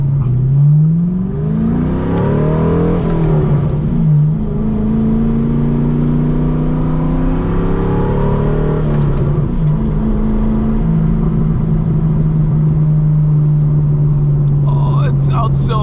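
LS V8-swapped RWB Porsche 911 with its engine revving loudly up and down in repeated sweeps, then holding a steady deep growl, close up and dominant throughout.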